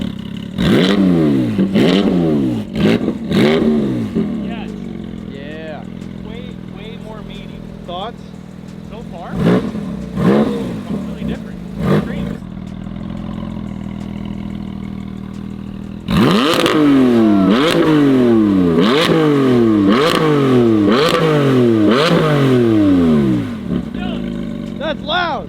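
Porsche GT4RS fitted with a Fabspeed exhaust, revved in a series of sharp, loud throttle blips, then idling quietly before another burst of repeated hard revs near the car, with people talking nearby.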